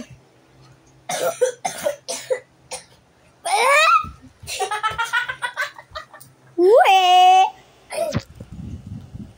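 A child coughs several times in short bursts, with playful voices, squeals and laughter between the coughs nearby.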